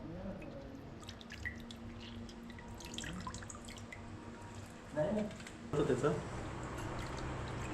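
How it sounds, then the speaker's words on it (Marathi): Fish being rinsed in lemon water, with soft drips, splashes and sloshing that come in short bursts near the middle and later in the clip, under a few spoken words. "तो वास घालवायला याला लिंबूच्या पाण्याने धुवून घेऊया"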